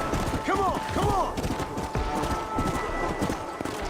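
Horse hooves clip-clop in Red Dead Redemption: Undead Nightmare, a close, brisk rhythm of repeated strikes with a horse's whinny early on, and voices faintly mixed in.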